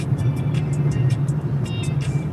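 Car interior road noise while driving, a steady low engine hum with tire rumble held throughout, with faint high ticking sounds on top and no talking.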